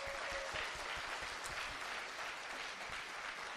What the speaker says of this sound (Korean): 여러분께 박수를 좀 부탁드리겠습니다.